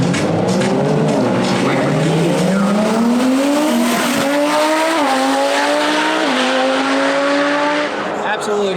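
A Lamborghini and a BMW F82 race each other on a drag strip. Loud engines rise in pitch through the gears, with clear shift drops and some tire squeal, close and sustained.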